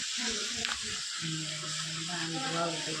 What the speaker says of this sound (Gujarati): પાસ્તા વઘારે છે.